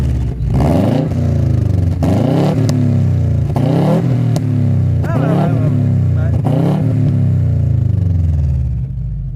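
A warmed-up Subaru Impreza engine revs repeatedly, about six loud rising surges with a deep steady idle between them, close by and continuous through the whole stretch.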